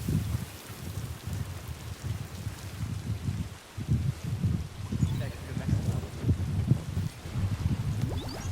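Steady rain falling in the video game Death Stranding 2, a continuous soft patter with low rumbling wash underneath, fairly close and even throughout.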